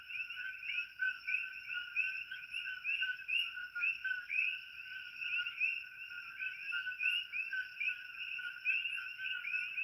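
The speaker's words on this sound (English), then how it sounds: "Glad you enjoy the frogs." Frogs call at night on Hawaii's Big Island in a continuous, shrill, pulsing chorus with layered high trilling tones, moderately distant and steady throughout, with no voices.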